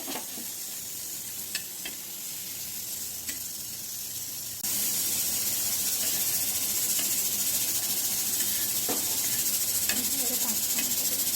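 Dried red chillies fry in hot oil with a steady, dense sizzle that grows louder midway, with occasional clicks of a utensil against the pan.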